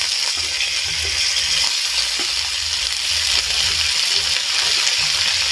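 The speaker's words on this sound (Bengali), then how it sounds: "ক্যাপসিকাম কড়াইতে দেওয়ার সাথে সাথে নুন দেবো না খুব হাই ফ্লেমে এটা একটু ভেজে নেব" Capsicum frying in a kadai over a high flame, a loud, steady close sizzle running unbroken through the whole stretch with faint stirring scrapes and no talk.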